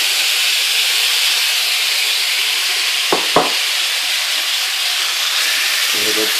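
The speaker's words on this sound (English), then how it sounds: "Keep on frying that off until it's cooked." A loud, constant sizzle of marinated meat frying in a hot pan for Chinese black pepper sauce, with a couple of brief clanks of a utensil partway through.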